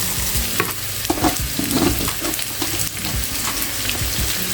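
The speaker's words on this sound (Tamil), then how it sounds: "ஒரு பெரிய வெங்காயம் போடுறேன்" A big chopped onion, with garlic, sizzles steadily in a pan of hot oil while being stirred for a samosa filling, with soft scraping and crackling throughout and no talking.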